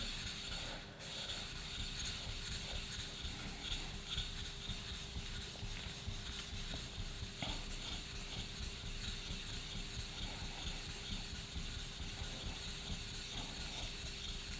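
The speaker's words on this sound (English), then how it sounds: "Remember to use both sides of the stone." An old wood chisel is rubbed back and forth on an 8000-grit sharpening stone, giving a soft, continuous gritty scraping with a steady stroking rhythm, close and fairly quiet, without talk.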